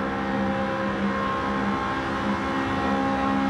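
A smooth, steady 805 hp 2006 Ford GT engine drone in the video game Gran Turismo 7 hums continuously at moderate volume, with no voices or breaks.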